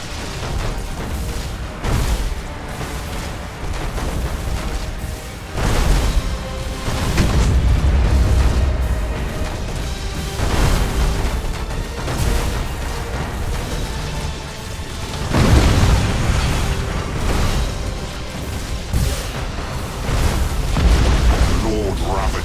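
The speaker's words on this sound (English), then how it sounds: "All weapons, fire on Hellbreed's ship!" Spaceship weapons fire and booming explosions roll out in repeated heavy swells in the Battlefleet Gothic Armada 2 video game, with low rumbling blasts mixed under dramatic game voices and music.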